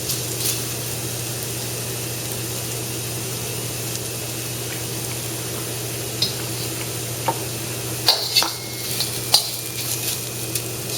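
Tofu frying in a pan until crispy, a steady low sizzle running through with a few sharper crackles and pops near the end, no voices.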